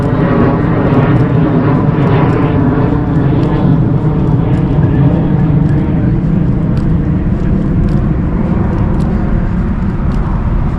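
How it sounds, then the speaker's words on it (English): An airplane passes overhead beside a canal, a steady broad engine roar that stays loud and constant throughout, with no talk. "Oh, there's the plane."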